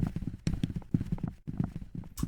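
Horse hooves clip-clop in the horror video game Mulberry County, a steady close rhythm of repeated hoofbeats in several bursts with brief pauses, loud and alone.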